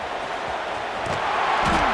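Broad, steady roar of a stadium crowd in a college football video game, Kansas versus Clemson, holding at a loud level and swelling slightly toward the end, with faint talk mixed in.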